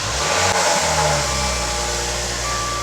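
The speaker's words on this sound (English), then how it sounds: "find a car with a very lovely, manly engine sound" A Maserati sports car engine idling with a low, throaty rumble, briefly revving up then settling to a steady hum, close by.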